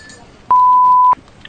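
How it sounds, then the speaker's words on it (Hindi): A phone call cutting off, marked by a single steady electronic beep that holds for just over half a second, loud and clean against a quiet background. "Phone cut."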